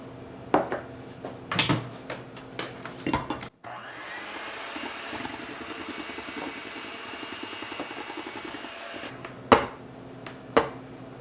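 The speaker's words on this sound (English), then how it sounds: "we're going to beat the egg whites to stiff peaks" An electric mixer whirs steadily for several seconds, beating egg whites to stiff peaks in a glass Pyrex bowl, with clinks and knocks of the bowl and utensils before and after.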